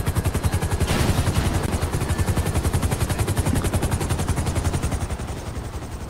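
A helicopter in a video game, its rotor thumping in a loud, fast, steady rhythm close up, with a brief burst of noise near the start and the beat fading slightly toward the end.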